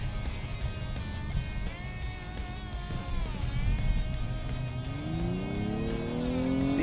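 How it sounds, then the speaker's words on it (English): A 2022 Kia Stinger's engine accelerates hard, a steady loud drone with road roar underneath whose pitch climbs noticeably toward the end as the revs build. "you can hear the difference in the engine noises when we step on it."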